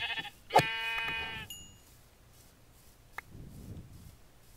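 Blocky sheep in the Minecraft video game bleat once, close and clear, followed by a few faint game clicks and soft rustles in an otherwise quiet scene.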